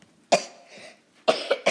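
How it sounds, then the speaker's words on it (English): A few harsh coughs close to the microphone, one single cough then a quick cluster of two or three, with a faint breath between. "I was just coughing."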